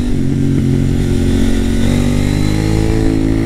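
A KTM Duke 890R motorcycle accelerates hard in fourth gear, its engine revving loud and close with a steady rising roar throughout, no voices heard.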